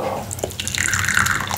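Chinese tea poured into a cup, a close trickling stream with small drips and liquid gurgles over a second and a half, no speech.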